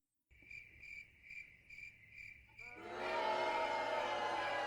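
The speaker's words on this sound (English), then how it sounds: "That's where we insert crickets and boos." A cricket chirping sound effect gives about six evenly spaced, bright chirps alone, then a loud, dense wash of noise takes over.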